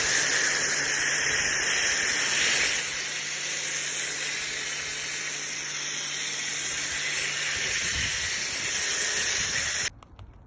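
Thick snow foam sprays onto a car in a loud, steady, close hiss that runs almost unbroken, eases slightly midway and cuts off abruptly near the end.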